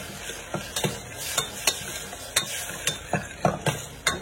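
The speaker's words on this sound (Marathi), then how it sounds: "5 मिनटं छान परतून घेऊया, कारण लसणाचा वास एकदम उग्र वास असतो" A spoon scrapes and stirs green garlic paste in a hot pan in a steady rhythm of sharp strokes over a faint, continuous sizzle, close and without talk.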